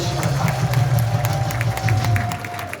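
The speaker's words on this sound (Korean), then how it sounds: "박수를 보내시기 바랍니다." Audience at an outdoor rally applauding, a steady wash of clapping and crowd noise at moderate distance, continuous throughout with a faint tone droning underneath.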